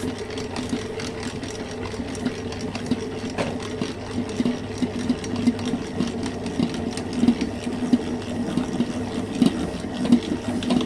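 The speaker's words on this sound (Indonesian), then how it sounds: "Setelah tepung masuk, air dan telur ini kita mixer sampai dia nyatu." An electric mixer whirs steadily as it beats flour, water and eggs into donut dough, a continuous motor hum with light rattling and no voices.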